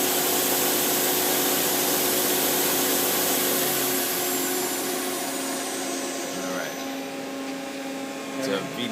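A 1996 Nakamura-Tome TMC 15 CNC turning center spindle spins at 3,000 RPM with a steady, loud whine and hiss. The whir holds a constant pitch and eases slightly toward the end.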